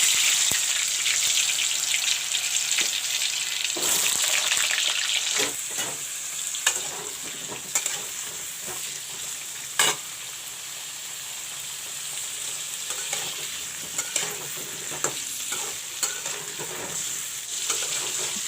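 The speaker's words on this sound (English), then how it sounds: "Now first of all I'll fry the pumpkin." Pumpkin pieces fry in hot oil with a loud, continuous sizzle and crackle close by, punctuated by occasional sharp pops and spatula stirring.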